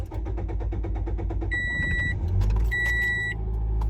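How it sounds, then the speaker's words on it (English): A car engine cranks and turns over, a low mechanical rumble building under two sets of electronic dashboard chimes, then settling into a steady idle. "I need to turn the car on."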